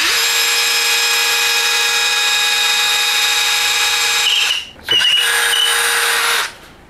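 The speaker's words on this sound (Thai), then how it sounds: "เจาะไม้ตัวนี้นะครับดอกเจาะไม้นะครับขนาด10มิลดูซิว่าจะเข้าไหมนะครับอันนี้เป็นไม้สนนะครับ" A power drill with a 10 mm ONISHI wood bit bores into pine: a steady high whine runs loud and close, dips briefly, then revs again before stopping.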